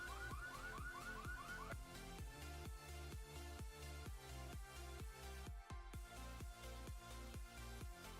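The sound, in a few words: car alarm in a video game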